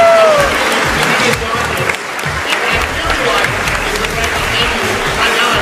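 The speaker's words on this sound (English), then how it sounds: "just go ahead and clap for her" A crowd at Shedd Aquarium claps for a performing animal, a steady, fairly loud burst of applause that runs throughout, with a voice talking through the noise and a brief whistle-like tone at the start.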